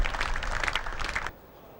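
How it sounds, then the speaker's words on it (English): A crowd at a football match at Southbury Road, home of Enfield F.C., claps steadily for the club mascot, with dense close applause that cuts off abruptly. "give him a big round of applause as he comes off"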